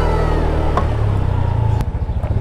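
A small Honda scooter engine runs on the road with a steady mid-pitched hum that wavers with throttle, loud and close, ending in a rougher, lumpier patch.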